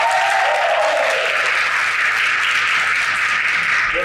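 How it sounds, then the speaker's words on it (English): A crowd claps steadily and loudly, sustained applause that fills the room without pause for several seconds. "give a round of applause for Van Hansler"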